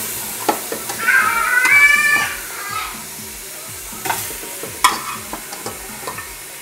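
Sautéed beef being stirred and scraped out of the pan into a pressure cooker, giving scattered utensil clanks, soft sizzle and scraping in irregular bursts, close by, with a faint voice in the background.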